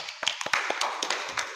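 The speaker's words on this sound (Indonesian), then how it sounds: "terima kasih, tepuk tangan" A group of students in a classroom lesson on prayer and dhikr claps together, giving a dense, irregular patter of close hand claps that carries steadily throughout.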